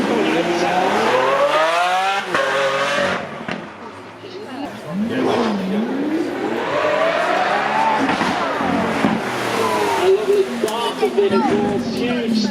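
A Lamborghini Aventador SVJ supercar making a demonstration run at a Beaulieu supercar weekend, its engine revving and rising in pitch through gear changes, loud and close, with a commentator talking over it.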